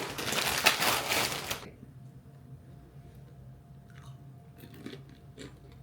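Close, loud crunching of a Tostitos Scoops tortilla chip topped with homemade salsa lasts under two seconds, then gives way to near silence with a few soft mouth sounds.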